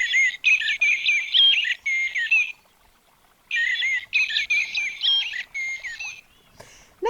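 A small bird peeping softly from inside a cave, short bursts of high, quick chirps repeated in two clusters with a brief pause between, close and clear with no talk.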